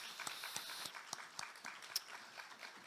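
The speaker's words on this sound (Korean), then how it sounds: "하나님께 감사 박수" A church congregation claps in a brief burst of applause, fairly faint and distant, with irregular individual claps.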